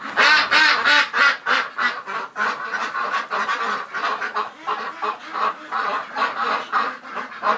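Muscovy ducks in a winter coop give loud, close, continuous hoarse calls and honking quacks in rapid overlapping pulses, with no talk.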